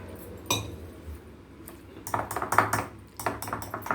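Pakoda batter is mixed by hand in a bowl, with soft close scraping and wet stirring sounds punctuated by light clinks, coming in irregular bursts in a quiet kitchen.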